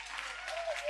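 Brief steady clapping from a church congregation during a French sermon, with a faint voice underneath.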